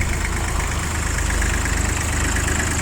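A Hinomoto C144 three-cylinder four-wheel-drive mini tractor's diesel engine idles steadily up close, with a low, even, pulsing chug and no voices.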